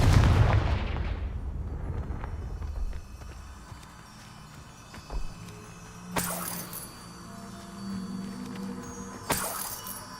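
Confringo fire spell blasts in the Hogwarts Legacy video game: a big booming explosion opens, followed by two sharper bursts later amid game ambience and footsteps.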